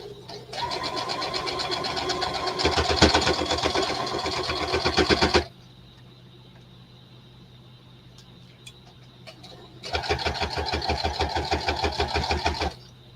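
A sewing machine stitches a Friends tote bag in two loud, close bursts with rapid needle chatter, separated by a pause of low hum and light handling clicks.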